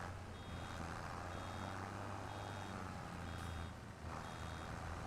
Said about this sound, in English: I can even hear the beeping.